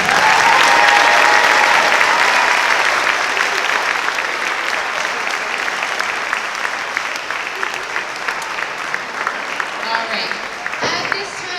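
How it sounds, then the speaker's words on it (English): Sustained audience applause for a sixth grade band at an elementary school concert, loud and dense at first, then thinning into scattered sharper claps near the end. "please stand up and let's give them another round of applause"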